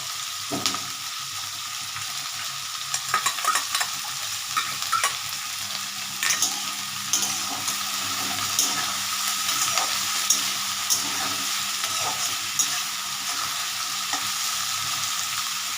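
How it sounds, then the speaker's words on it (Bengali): Garlic frying gently in a pan with browning onions while ghugni is being made, a steady sizzle with scattered pops and crackles and occasional stirring scrapes, close and continuous with no talking. "এটা আস্তে আস্তে ভাজা হোক।"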